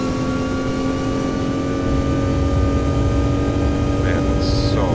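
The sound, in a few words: airliner jet engines spooling up for takeoff in X-Plane 11 video game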